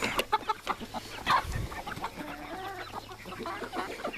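Several free-range chickens clucking and cackling close by in a garden, with short irregular calls overlapping against faint farmyard background noise.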